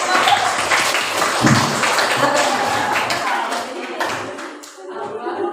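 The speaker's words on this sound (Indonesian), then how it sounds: "Beri tepuk tangan." Students in a biology class clap for a presenting group, a brief burst of scattered hand claps and taps that thins out toward the end, with voices mixed in.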